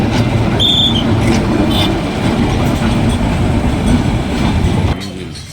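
A Dhaleshwari passenger train rumbles loudly along the rails, with steady wheel and carriage noise and a brief high squeal, before the sound drops off sharply near the end.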